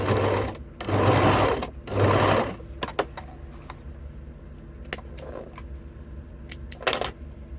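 An electric sewing machine stitches across a zipper in three loud, steady bursts of rapid mechanical whirring, each about a second long, followed by quieter clicks and handling taps.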